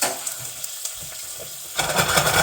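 Butter sizzling in a frying pan for a blue oyster mushroom omelet, a soft crackle with small pops that swells into a louder, steady fizz toward the end, close by and without talk.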